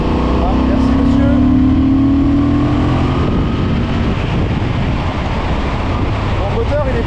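A 2025 Honda Transalp 750 motorcycle in A2 trim revs its engine, a loud, close rising drone that swells early and then settles into a steady roar over wind-like rushing noise.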